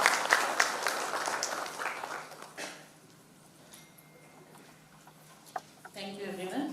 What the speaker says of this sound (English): please join me in welcoming our chief guest with a round of applause